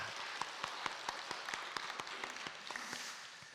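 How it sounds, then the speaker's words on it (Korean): Congregation applauding in thanks for the Immanuel church choir at an early-morning prayer service, a steady patter of many hands with sharper individual claps standing out, moderately distant and even throughout. "우리 임마누엘 찬양대에게 감사의 박수를 드리도록 하겠습니다"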